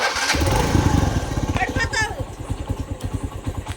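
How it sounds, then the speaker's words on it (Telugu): A motorbike engine starts up and runs with a steady, close chugging pulse, mixed with people talking nearby as someone gets a child seated on the bike. "బండి స్టార్ట్ చేద్దాం"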